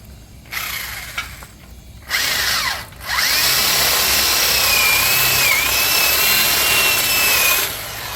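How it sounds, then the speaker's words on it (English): A power drill fitted with a step drill bit bores through a mobile detailing trailer, whining in several short bursts before settling into a long, steady, loud grinding run that stops near the end. "So now I gotta go find a bigger drill bit."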